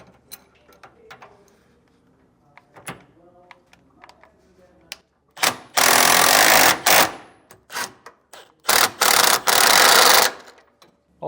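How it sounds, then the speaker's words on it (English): A 19mm socket and wrench tighten down bolts on a rear anti-sway bar installation on a 2020 Jayco Melbourne, heard as quiet metallic clicks and taps followed by several loud bursts of rapid ratcheting up close. "Now we can tighten them all down with a 19mm socket and a wrench."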